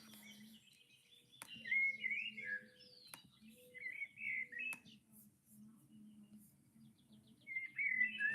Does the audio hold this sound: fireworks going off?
no